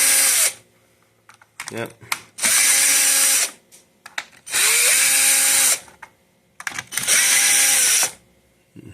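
A power screwdriver whirs in three or four separate bursts, each a loud, close, steady spin as screws come out of a Hoover Power Dash Pet vacuum, with quieter clicks and handling between bursts and one brief spoken word.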